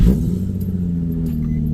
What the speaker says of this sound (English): Before I put any of that stuff in, we're gonna start it, just make sure it starts and everything.